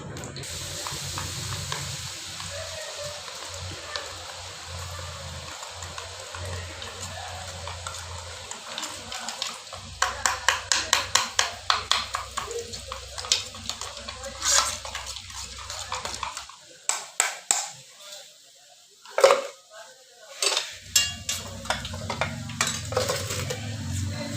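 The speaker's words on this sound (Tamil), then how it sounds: "இங்கே பாருங்கள், பூந்தி ஃபுல்லாக பொரிச்சிட்டேன்." Spicy boondi frying in hot oil gives a steady close sizzle, broken by stirring scrapes and metal utensil clinks against the pan, with a few brief quieter gaps.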